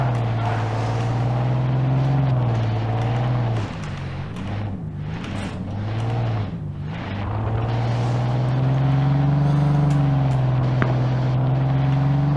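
A car's engine drones steadily in the shooter game Ring of Elysium, the pitch dipping twice as the vehicle struggles over an obstacle before rising and holding again.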